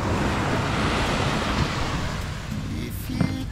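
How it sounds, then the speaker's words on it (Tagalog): Strong ocean waves rush in a constant, loud roar of surf and wind, with no one talking. "Malakas ang alon, Penggay."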